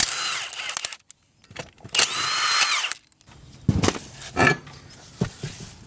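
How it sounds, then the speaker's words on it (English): A Milwaukee impact wrench with a 3/4 socket removes lug nuts from a wheel on a Wright Stander ZK mower, firing in several loud, close bursts of rattling hammering separated by short pauses. "I've got a 3/4 socket on my Milwaukee Impact here. So we're going to just go around here and pull this wheel off."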